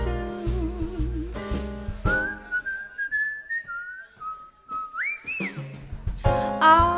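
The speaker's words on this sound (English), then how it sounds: "I'd whistle a little tune." Whistled melody from a jazz vocalist performing in a club, a clear wavering tune carrying over soft piano and bass accompaniment, with sustained pitches sliding up near the end before a sung note returns.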